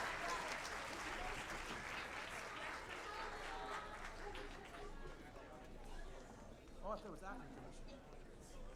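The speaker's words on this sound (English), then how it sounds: "And maybe one more round of applause for our All-City Chorus and Miss Beverly Mosby." Quiet applause from the audience at a middle school spring concert, clapping fading as chatter and a voice come through underneath, faint and somewhat distant.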